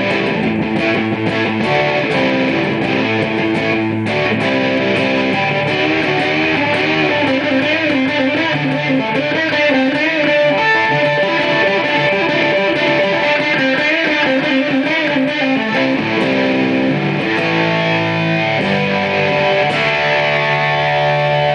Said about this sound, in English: Okay, and then play with distortion. It's got a really good tone as well.